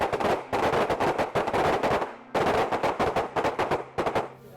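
Rapid bursts of handgun fire from a shooter in a Chapman stance at a range, loud and close, with quick shots in two volleys separated by a brief pause.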